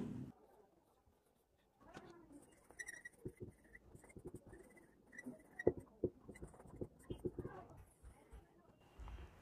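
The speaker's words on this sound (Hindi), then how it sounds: "तो उसको भी यहां लिख देते हैं हम लोग" A pen scratches out notes by hand during a Hindi-language biology lecture, in a series of quick, dry strokes and taps after a quiet start. The writing is close and moderately loud, with faint room sound and little talking.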